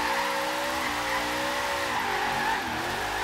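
Race car in a video game drifting through a drift zone, its engine droning loud and steady with continuous tire squeal and skidding throughout.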